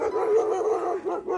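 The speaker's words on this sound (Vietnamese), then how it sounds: "một anh chó ra hùng hổ." A dog at a Lam Dong garden farm gives an agitated whining, yelping bark, a short tonal burst in the foreground with no talk over it.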